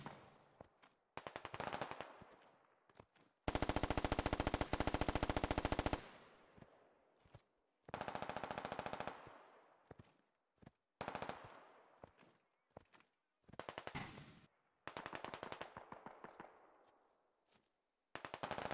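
RPK machine gun fire in the video game SquadOps, heard as repeated bursts of rapid automatic shots with gaps between, one long sustained burst, fairly close and loud.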